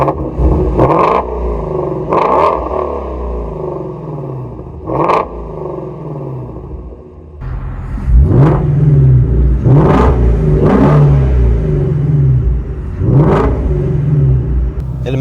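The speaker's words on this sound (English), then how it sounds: "we'll give you a listen to this beautiful sounding V8 engine" A Ford Mustang Shelby GT350 V8 engine revs repeatedly, loud and close, with sharp throttle blips rising and falling over a deep rumbling idle.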